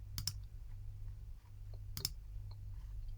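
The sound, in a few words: mouse click in software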